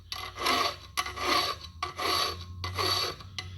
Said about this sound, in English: I've already drilled out that hole and then started hand filing it so that I could get it round